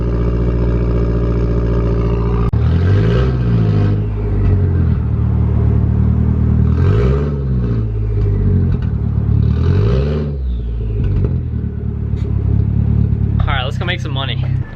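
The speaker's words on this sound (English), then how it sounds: "Nice cold start." A Toyota 1JZ engine in a Nissan 240SX project cold starts: a starter crank, then a loud idle that rises and falls in several rev swells, ending with some clatter.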